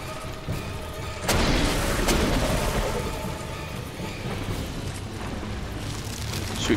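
A boss in the Dark Souls 2 video game fires a laser as a sudden roaring blast that stays strong for several seconds, then fades slightly and swells again.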